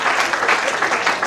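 A short burst of loud, dense clapping from the audience at a Hindi poetry recital (kavi sammelan), steady and enthusiastic throughout.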